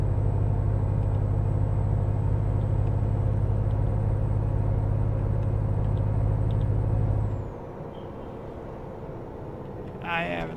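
A Ford Raptor driven in Euro Truck Simulator 2 gives a loud, steady, deep engine drone that suddenly drops to a quieter, thinner rumble near the end.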